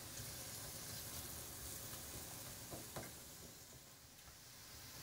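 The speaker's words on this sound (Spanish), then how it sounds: "Sin parar de darle vueltas para que no se nos queme en la sartén." Onion softening in a frying pan while being stirred continuously, a steady broadband sizzle with faint scraping, close and even throughout.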